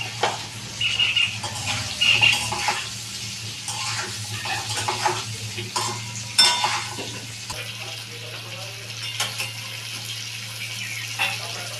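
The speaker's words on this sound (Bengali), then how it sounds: "হলুদ আর নুন একসঙ্গে দিয়ে আলুগুলোকে ভেজে নেব।" Potatoes frying with turmeric and salt in a pan, a steady soft sizzle under repeated scraping and stirring, with occasional clinks of the utensil against the pan.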